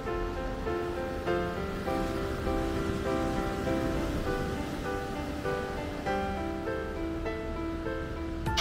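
Sea waves on a South China Sea beach at Phan Thiet, Vietnam, opposite a hotel, giving a steady, continuous wash of surf that stays fairly even throughout, with no talk.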